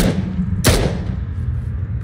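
A single sharp gunshot in the battle royale video game PUBG cracks out once against a quiet background, followed by a faint low rumble.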